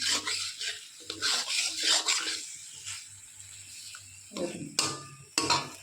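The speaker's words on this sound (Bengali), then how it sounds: "এবার এটাকে নেড়ে চেড়ে নুনটা আপনারা পরিমাণ মতো দেখে নেবেন। একদম দুধটাকে মিশিয়ে দিতে হবে।" A spoon stirs an eggplant dish in a pan as milk and salt are mixed in, giving close, uneven scraping and sloshing strokes, with a few sharper clacks against the pan near the end.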